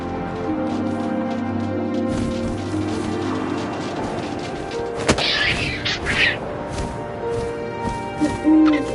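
Owl hooting in a PS4 video game, a few soft hoots over a steady ambient bed of wind and low game music, with a couple of brief thumps partway through.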